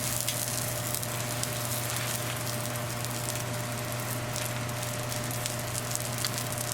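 Missi roti cooks in desi ghee on a pan, giving a steady, close sizzle with scattered light crackles over a constant low hum. No voices are heard.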